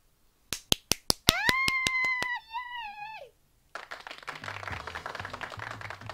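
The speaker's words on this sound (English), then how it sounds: "That wasn't really an eruption, that was just a nice golf clap." Spectators in the visual novel game Piofiore: Fated Memories give a small golf clap, a few sharp, evenly spaced claps followed by a tonal chime and then a soft, sparse patter of clapping.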